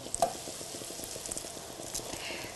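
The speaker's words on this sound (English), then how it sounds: "I'm going to separately brown the chicken." Quiet, close crackling sizzle of chicken browning in a frying pan for chicken cacciatore, with soft irregular pops and no voices.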